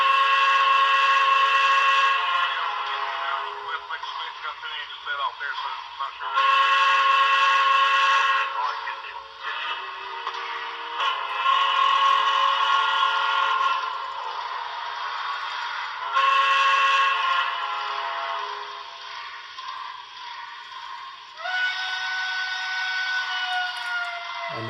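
A Broadway Limited PRR B6sb model locomotive sounds its default whistle in a series of loud, sustained multi-chime blasts, each held for several seconds with brief breaks between, heard alone.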